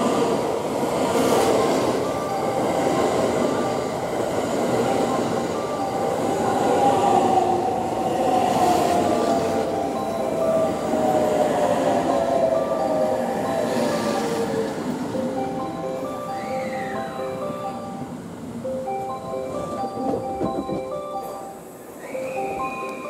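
A limited express train (Thunderbird) arrives at a Japanese station, rumbling in with rising and falling wheel tones and faint squeals, a steady clattering roar that slowly eases as it slows.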